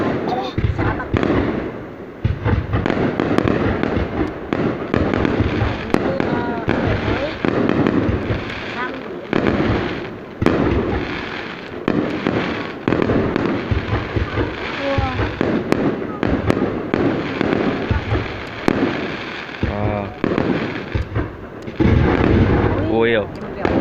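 New Year's Eve fireworks over Bac Kan province, Vietnam, in 2019, with dense rapid bursts and crackling explosions going off continuously, loud and close, while people talk and exclaim throughout.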